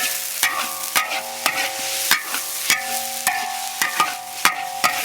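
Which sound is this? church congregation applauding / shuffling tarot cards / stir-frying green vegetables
stir-frying green vegetables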